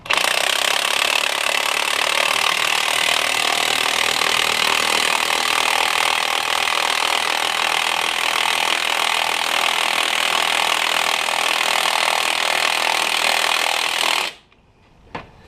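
A coil spring compressor tightens down on a Dodge Ram coil spring during a Rough Country leveling kit install. It makes a loud, sustained rattling buzz like an impact tool that runs without a break, then cuts off abruptly near the end.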